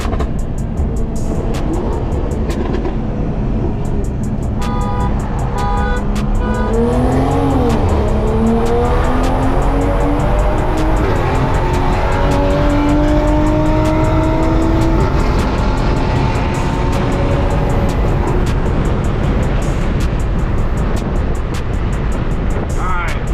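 A tuned BMW M340i on a custom tune accelerates hard, its loud exhaust roaring close by as the engine pitch climbs steadily through the revs, with some tire noise.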